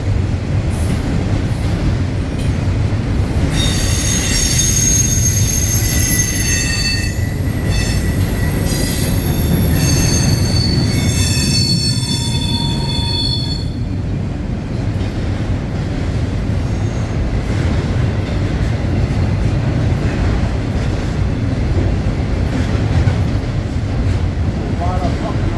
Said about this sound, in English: A lot of fucking auto racks. These ones are loaded.